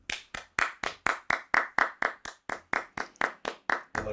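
Audience applause in a studio talk and entertainment show: a steady run of about sixteen sharp, evenly spaced clapping bursts, fairly close and loud, with no talk over it.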